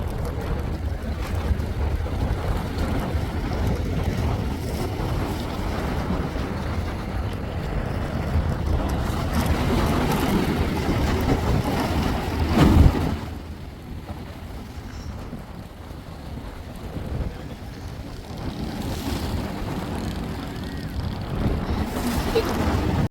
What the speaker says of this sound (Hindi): शोर सुने जरा समंदर का